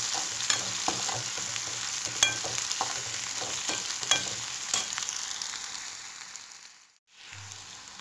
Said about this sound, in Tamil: இப்போது வெங்காயம் வதங்குதே